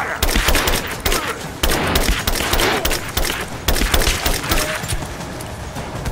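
Dense gunfire in the Rise of the Tomb Raider video game, continuous loud volleys of shots with thuds and crashes layered over each other, barely pausing throughout.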